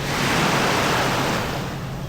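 Waves wash onto Sabadia beach in Al Hoceima, Morocco, a dense, steady surf roar filling the whole moment with no voices.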